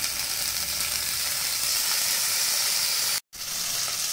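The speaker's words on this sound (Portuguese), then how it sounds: "Vamos deixar dourar um lado dourar o, o outro lado." Pieces of rabbit meat browning in a hot pan, a steady loud sizzle and crackle with a brief cut near the end, with no talking.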